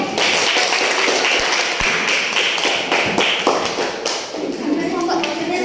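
Students in a classroom clap together for a classmate coming to the front, a steady dense patter of hands, close and loud, with voices mixed in.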